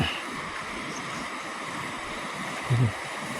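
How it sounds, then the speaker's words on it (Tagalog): Steady broadband rushing of fast-flowing water, continuous and fairly loud, with a brief low thump near the end. "Lakas ng ilog."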